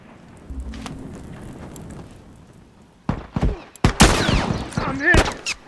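Hunting rifle gunfire in the video game The Last of Us Remastered: several sharp shots and impacts crowd the second half, following a quieter stretch of game ambience.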